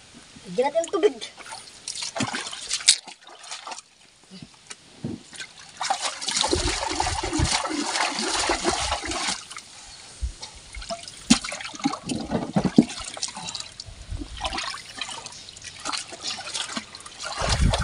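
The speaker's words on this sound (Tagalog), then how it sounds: "Lagyan natin tubig." Water poured into a container at a rocky stream bank after a landslide, a trickling, splashing flow that comes and goes over about eighteen seconds, with people talking nearby.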